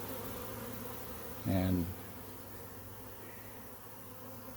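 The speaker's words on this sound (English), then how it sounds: "I'm going to shake these bees off of this branch again" A honey bee swarm on a branch hums as a low, steady buzzing bed throughout, with a brief louder burst of sound midway, and a voice speaks a single short word.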